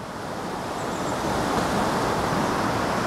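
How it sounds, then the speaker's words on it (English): Steady broadband rush of water flowing from an overflow of the Leeds Liverpool Canal near an aqueduct, a continuous even roar close by with no talk. "with the water flowing behind. I believe that's an overflow from the canal, the Leeds Liverpool Canal."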